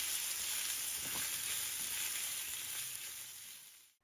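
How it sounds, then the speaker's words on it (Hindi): Marinated chicken strips sauté in oil in a pan over a high flame, a loud, continuous close sizzle with a faint stir near the middle, fading away at the end. "2 से 3 मिनट के लिए हाई फ्लेम पर चिकन को अच्छी तरह से हमने सौटे कर लेना है"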